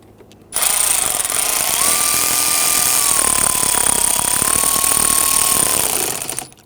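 A power tool snugs down the clamp bolt on the air intake tube of a 2011-2015 Kia Sorento 2.4L four-cylinder, a close, loud, continuous whirring drive lasting several seconds with a wavering pitch before cutting off.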